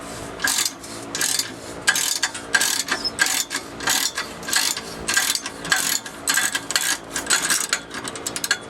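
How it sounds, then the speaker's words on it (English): A ratchet turning a 15mm shallow socket on factory catalytic converter bolts of a 1996 Chevrolet Impala SS clicks in close, rapid bursts of pawl ticks, repeated in steady strokes with no talking. "you'll need a 15mm, just regular shallow socket, and a ratchet in order to remove these factory bolts"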